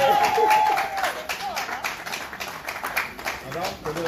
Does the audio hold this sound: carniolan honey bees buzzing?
no